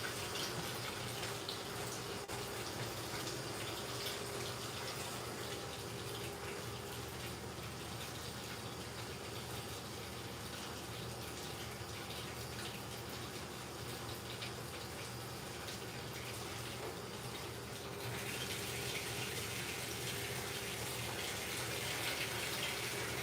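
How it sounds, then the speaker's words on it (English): Hot water running steadily from a tap into a bathtub while rinsing, a constant close hiss and splash lasting throughout with a slight change near the end. "So I'm going to rinse it off in the bathtub and then let it drip dry in the shower."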